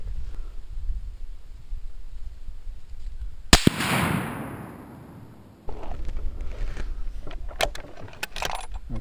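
A single sharp, loud rifle shot from a Mossberg Patriot in .30-06 firing a Winchester 180-grain Power-Point round, cracking out close by and ringing off over a steady outdoor background before small handling clicks follow.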